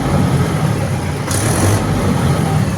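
A Mahindra Yuvo Tech+ 575 DI diesel tractor engine running loud and close, with a short rise in revs partway through before easing back to a steady rumble.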